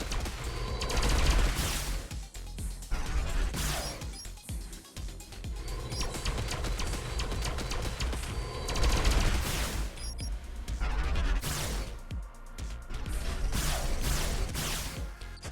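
A sword ship firing rapidly in a shooter game, dense streams of quick shots over busy game music and effects, steady and loud through most of the stretch with brief lulls.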